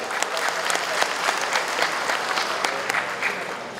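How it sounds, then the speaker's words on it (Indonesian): An audience claps steadily for the Karang Taruna youth organization at a regional development program launch; the dense, even applause holds at moderate level throughout without a break. "Tepuk tangan untuk Karang Taruna."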